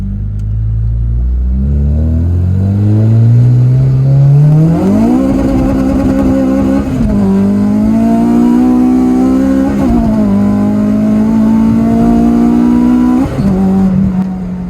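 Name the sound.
car driving on main road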